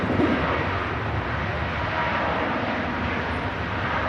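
A Ryanair Boeing 737 rolling for takeoff on runway 23 left at Manchester Airport, a steady loud broadband jet engine roar with no talk over it.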